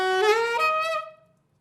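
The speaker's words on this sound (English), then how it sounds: "You can hear that that's me overblowing." A single breathy, buzzy wind-instrument note, overblown and harsh, bends slightly upward and fades out after about a second.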